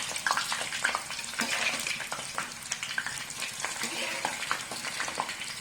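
Breadfruit chips fry in a small amount of oil, giving a steady close sizzle with crackling pops and occasional stirring scrapes throughout.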